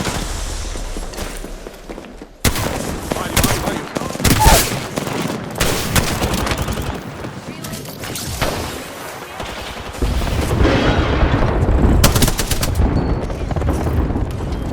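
Loud, dense gunfire from the video game Apex Legends, rapid bursts and sustained automatic fire with booming impacts, filling the scene almost continuously.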